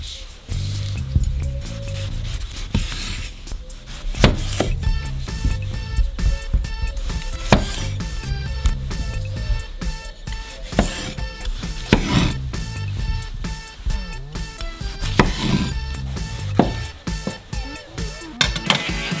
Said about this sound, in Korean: 신선한 토마토를 반으로 자른 다음